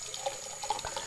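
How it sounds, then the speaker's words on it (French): A washcloth rinsed under lukewarm tap water, giving a soft trickle with a few splashy drips and wringing sounds over about a second, close and fairly quiet with no talking. "je vais le rincer à l'eau tiède"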